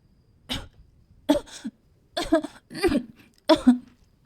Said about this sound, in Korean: 어느 날 밤, 다섯째가 기침을 하기 시작했다.